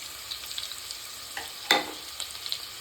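Ginger garlic paste sizzles as it fries in a pan of oil that has already browned golden, with a soft steady crackle and a few sharper spits and stirring scrapes, close and fairly quiet.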